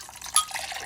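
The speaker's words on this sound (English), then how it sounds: "I put a little bit of water to remove all the yogurt from the" A little water is poured into a jug holding yogurt for a homemade ginger potato curry, giving a brief close splashing trickle that peaks in a quick splash and then fades to a soft swirl.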